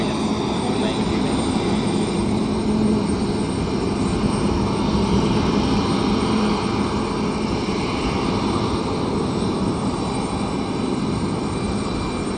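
An Embraer E195-E2 demonstrator jet on approach and arrival at London City Airport gives a loud, sustained engine roar that stays strong throughout, with faint voices mixed into the noise.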